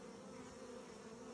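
Honey bees droning at a weak hive with a reduced entrance, a steady dense buzz close by, faint and even throughout with no voices.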